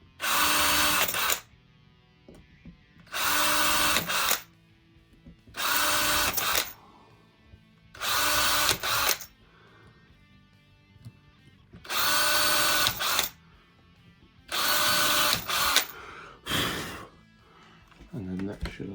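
A power drill bores pilot holes for screws during a seven-string baritone guitar build, running in six loud bursts of a second or two each, separated by short pauses, with quiet talk between the bursts.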